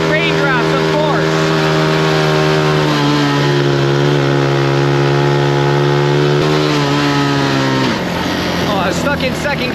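A Honda CT70 minibike's small engine drones loudly and steadily up close while riding on roads and trails, its pitch holding then dropping sharply near the end, with someone talking over it.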